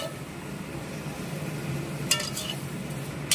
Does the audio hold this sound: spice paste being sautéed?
yes